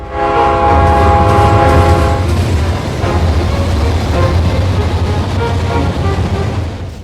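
A loud, close train horn blares for a couple of seconds near Folkston, then gives way to the heavy rumble of the passing train.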